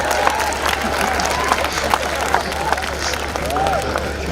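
An audience at a Hindi comic poetry event breaks into applause, a dense, steady spread of clapping with some crowd noise and a voice speaking over it.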